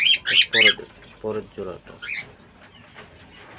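Cockatiels give sharp, squawky calls close by, several quick bursts at first and then scattered chirps, with someone speaking briefly among them.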